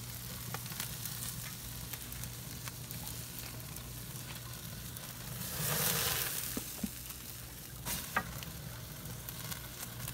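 A tomahawk steak sears over open flames for a caveman-style reverse sear, a steady, fairly quiet sizzle and crackle with a brief louder hiss of flare-up in the middle and a few sharp pops.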